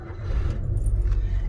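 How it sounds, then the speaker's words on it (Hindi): A used car's engine starting on its self starter, a short low rumble as the engine catches and settles into a steady idle, close and fairly loud. "एकदम से स्टार्ट हो गई भाई गाड़ी"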